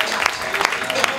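An audience at a live Los Angeles comedy stage show applauds a volunteer brought up on stage. The applause is a steady wash of clapping, with a voice talking over it throughout.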